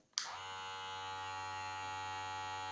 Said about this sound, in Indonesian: Tidak terlalu bising sih kalau menurut saya, dia standar clipper aja.